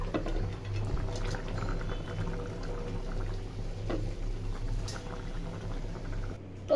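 Kochu mukhi (taro root) curry boiling in a pot, a soft continuous bubbling and gentle popping, quiet and close, with no voices.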